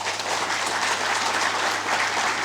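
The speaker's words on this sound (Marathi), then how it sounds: "जरा जोरदार टाळ्या" Loud, steady applause from an audience at a felicitation event, a dense crowd clapping close by without a break for the whole short stretch.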